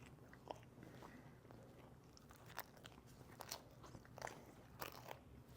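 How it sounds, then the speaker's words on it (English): Quiet, close crunching bites into a crunchy cheese stick, with a few sharp crackling snaps scattered over several seconds of chewing. "Little ASMR crunch on the cheese stick, huh?"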